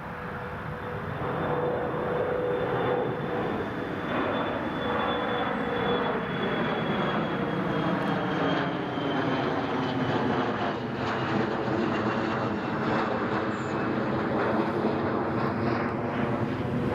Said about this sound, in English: Ryanair Max is racing along to the end of runway 25.